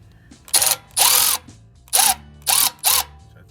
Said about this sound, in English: Got my gun already set up to unbolt this.